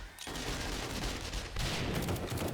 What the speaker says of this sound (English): It looked like you ran through the explosion.